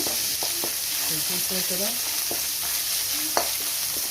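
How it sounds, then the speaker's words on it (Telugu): Ginger garlic paste is stirred into spicy chicken frying in a pan, with a steady close sizzle and scraping spoon strokes throughout while someone talks over it. "జింజర్ గార్లిక్ పేస్ట్, అది కూడా ఒక 2 స్పూన్స్ వేసుకొని మంచిగా మిక్స్ చేస్తున్నాను నేను."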